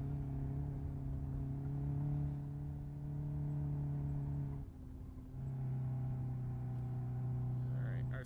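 A car engine idles and revs in BeamNG.drive, a steady low droning hum with one brief dip in pitch partway through before settling back into a constant tone.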